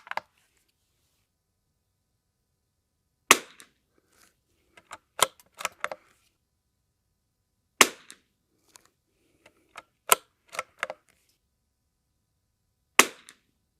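A CZ455 rifle is fired at a target on a shooting range, giving five or six sharp, separated shots with small mechanical clicks of bolt handling in between, all in quiet surroundings.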